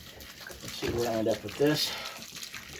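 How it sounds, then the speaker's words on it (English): Water poured into a homestead concrete mix, a brief splashing gurgle rising and falling over a couple of seconds, close up, with someone talking over it. "Now let's put some more water on here."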